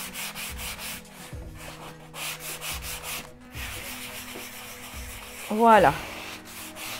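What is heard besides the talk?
rubbing painted stencil on small table to distress it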